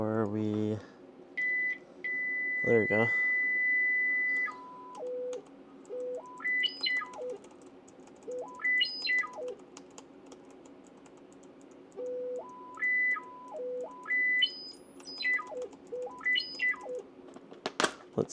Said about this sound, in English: We got the beep.